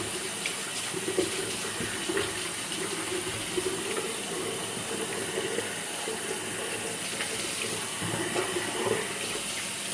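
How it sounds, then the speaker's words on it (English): Tap water runs steadily into a bathroom sink as it is rinsed out after a wet shave, a continuous close splashing with small bursts of spatter. "I'm gonna rinse this sink out."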